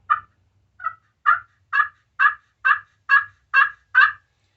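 A run of nine raspy turkey yelps from a cheap glass friction turkey call, starting soft and growing louder and steadier, up close with no voices.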